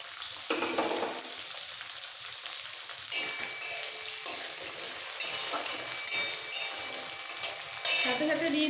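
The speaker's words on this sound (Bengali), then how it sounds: "এবার এর মধ্যে দিয়ে দিচ্ছি টমেটো কুচি।" Chopped tomatoes tumble into a pan of frying paneer and onions for paneer bharta, the steady sizzle jumping louder with each addition, broken by scraping stirs and a final burst of spatter.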